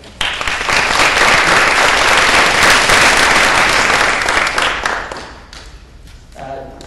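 An audience at an education politics forum applauds to welcome a speaker, dense clapping that swells in quickly, stays strong for several seconds, then fades out near the end.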